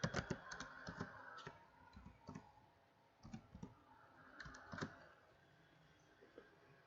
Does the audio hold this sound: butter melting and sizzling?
no